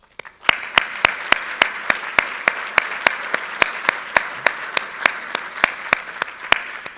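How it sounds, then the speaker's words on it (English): A roomful of guests at a chamber of commerce annual lunch in Lincoln applauds, a sustained wash of clapping with a few sharp, evenly spaced claps cutting through near the front, steady and fairly loud throughout. "give yourselves a round of applause"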